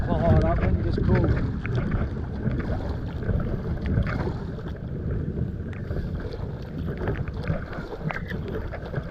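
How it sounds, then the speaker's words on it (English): Cold north-northeasterly wind blows and buffets the microphone while pack-rafting on South Uist, a rough, continuous gusting roar with water sloshing around the raft; a person's voice is heard briefly in it. "Oh, that wind is cold."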